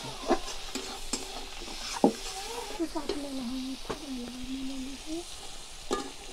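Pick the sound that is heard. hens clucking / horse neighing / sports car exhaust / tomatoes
tomatoes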